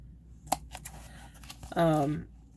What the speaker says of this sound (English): So I can get in here with my scissors.